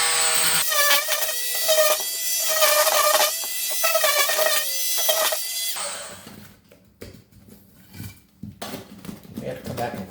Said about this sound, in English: Just take your multi-tool and just kind of shave the edge.